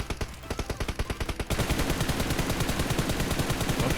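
Rapid automatic gunfire from the PUBG Mobile game, first as a quick string of distinct shots, then a dense, continuous burst of overlapping fire that stays loud and close to the end, with no talking.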